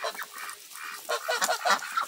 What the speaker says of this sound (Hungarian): itt vannak a csirkéim